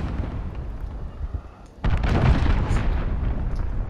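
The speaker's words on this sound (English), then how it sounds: "Nice cruise missile kill." A deep, rumbling cruise missile explosion in Call of Duty hits suddenly after a quieter lead-in, loud and sustained with a rolling low boom.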